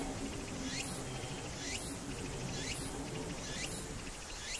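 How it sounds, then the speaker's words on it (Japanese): Cicadas sing on a summer day, a dense buzzing chorus that swells in regular pulses about once a second. "あ、夏だな、このセミの声がね。"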